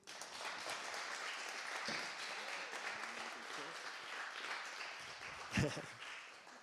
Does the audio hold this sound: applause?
yes